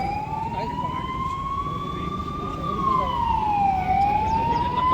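An ambulance siren wails with a slow, drawn-out rise and fall, loud and steady throughout, over the low rumble of a crowd and traffic at a peaceful roadside protest.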